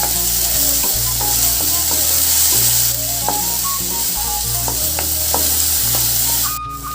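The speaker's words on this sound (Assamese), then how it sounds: "এতিয়া গোটেইখিনি ভালকৈ ভাজি ল'ম" Onion with a paste of ginger, garlic, cumin, coriander and dried chili frying in a pan for kofta curry: a steady, loud sizzle with occasional stirring scrapes and clinks, no talking.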